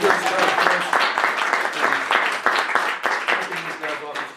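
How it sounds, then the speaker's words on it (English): An audience at a human trafficking panel in the Utah State Capitol claps for prosecutors and security staff, a loud, close, continuous burst of clapping from a crowd that stays full throughout. "how about a round of applause for our prosecutors and the security staff?"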